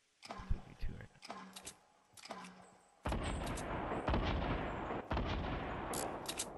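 Gunfire in Fortnite: a few loud separate shots with ringing tails, then a heavy stretch of sustained, booming shooting, close and continuous.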